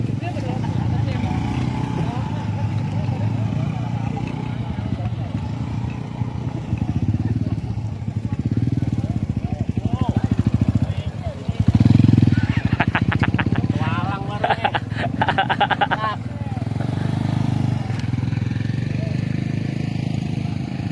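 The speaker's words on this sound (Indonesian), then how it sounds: "Motor masuk hutan." A motorcycle engine rumbles steadily as the bike rides into a forest near a fish pond, with a louder burst of revving and clattering midway, heard alongside people talking.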